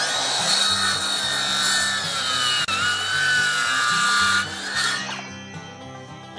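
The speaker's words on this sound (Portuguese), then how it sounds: "nós vamos usar também um pouco aqui o serrote." A handsaw rasps steadily back and forth through hard wood, close and loud, before the strokes stop and the sound fades to quiet.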